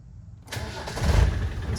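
A 1996 Land Rover Defender 90 300TDI diesel engine starts up after a quiet moment: a brief crank catches and settles into a close, rough, rumbling idle.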